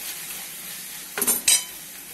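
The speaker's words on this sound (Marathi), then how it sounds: "असं परतून घ्यायचं याला" Boiled noodles with tomato sauce stir-fry in a pan under a soft steady sizzle, with two quick scraping tosses of a utensil near the end.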